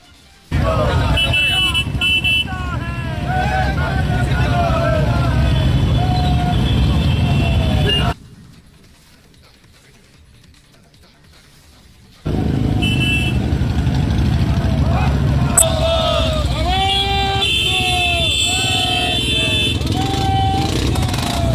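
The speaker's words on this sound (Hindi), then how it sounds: "ये तस्वीरें देखिए जहां गणेश गोदियाल बाइक रैली और पदयात्रा श्रीनगर में आज निकालते हुए नजर आए" Motorcycles in a bike rally rolling along a road in Srinagar, engines revving loudly with horns tooting, a short near-silent gap in the middle before the engine noise returns, with voices underneath.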